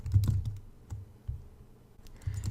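Someone types on a computer keyboard in short, uneven bursts of close, crisp key clicks separated by brief pauses.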